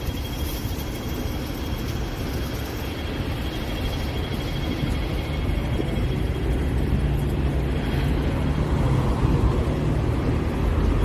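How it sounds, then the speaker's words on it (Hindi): Busy evening street traffic in Hong Kong near an orange-and-white train station, a dense steady roar of passing vehicles with no pauses, slowly growing a little louder toward the end. "बहुत ज़्यादा लोग, ट्रैफिक।"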